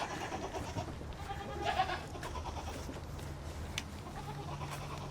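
Goats bleating at Grandpa Doss Farms, a small herd of five, in a noisy outdoor farm setting; a couple of louder bleats stand out near the start of the second half over steady background rumble.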